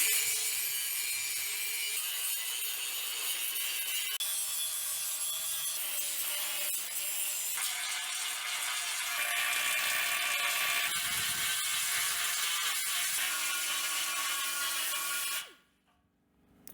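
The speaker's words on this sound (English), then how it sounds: "I use a flapper disc on it, and those little grinding wheels, you know, to get everything in order." A flap disc and small grinding wheels work over rusty sheet metal in a steady, harsh, high-pitched grind that holds for about fifteen seconds, then cuts off abruptly into near silence.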